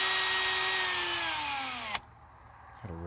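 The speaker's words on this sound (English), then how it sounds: "I went out and bought this yesterday, Milwaukee cordless M18 right angle drill." A Milwaukee M18 cordless right angle drill runs loud and steady for about two seconds while drilling out exhaust manifold bolts on a big-block engine, its pitch sagging under load before it stops abruptly, followed by brief quiet handling clatter.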